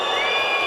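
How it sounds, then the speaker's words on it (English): Crowd murmur and scattered cheering fill a gymnastics arena during a women's balance beam final at the 2019 Universiade, a steady, broadband wash of noise throughout the short moment. "Hitomi Hadakeda of Japan has got to contend with just a little bit of noise from the crowd"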